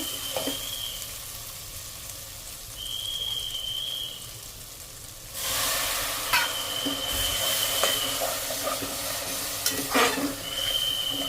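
Spice masala with turmeric, coriander and cumin powder being fried and stirred for a mutton curry, a steady sizzle that swells louder midway with scraping stirs and clinks of the pan.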